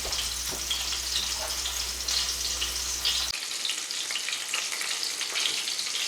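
Country fried steak frying in a skillet, a steady close crackling sizzle with fine spattering pops that goes on without a break.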